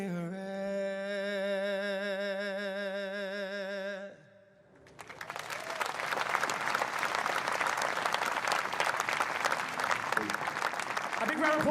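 Crowd applause at the Australia Day 2020 WugulOra morning ceremony. Sustained singing gives way after a short pause to loud, dense clapping that carries on evenly.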